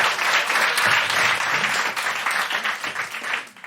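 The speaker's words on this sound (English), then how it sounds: "Big round of applause for Gary, everybody." Audience at a live podcast show gives a guest a big round of applause, a loud, dense burst of crowd clapping close to the microphone that holds steady, then starts to fade at the end.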